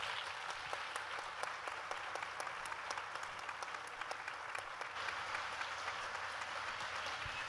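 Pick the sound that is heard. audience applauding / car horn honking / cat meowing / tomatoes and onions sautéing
audience applauding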